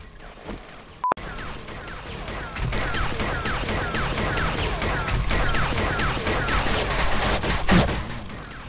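Gunfire crackles in a dense, rapid volley after a single sharp crack near the start, continuing loud and sustained for several seconds, with little speech.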